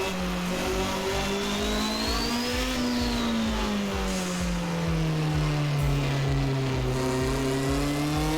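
A Toleman T184 Formula 1 car running full turbo boost in Assetto Corsa, its engine holding a steady loud drone that rises slightly then slowly falls in pitch, continuous and close throughout.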